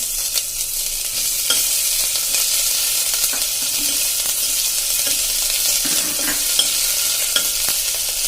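Hot green chillies and fresh ginger paste hitting a hot pan for Swaminarayan-temple-style khichdi, giving a steady bright hissing sizzle with occasional soft knocks of stirring, close up and alone.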